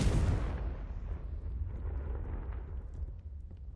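The Confringo blasting spell from Hogwarts Legacy bursts once at the start, then its low rumble slowly fades over several seconds, heard quietly at a distance.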